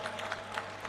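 Indoor audience at a food festival inauguration applauds, a dense, steady wash of clapping heard briefly and at moderate distance.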